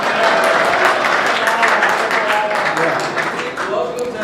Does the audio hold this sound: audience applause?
yes